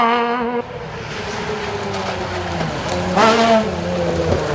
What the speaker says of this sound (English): just listen to the sound of the straight six M3 engine